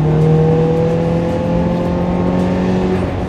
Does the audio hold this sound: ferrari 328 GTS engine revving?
yes